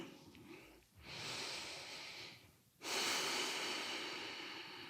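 Deep, slow breathing during a yoga pose: one long airy inhale and then a fuller, louder exhale, close and unhurried, with no talking.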